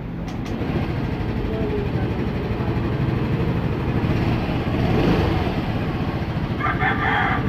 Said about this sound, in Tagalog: Naririnig nyo yung ano na ingay ng makina.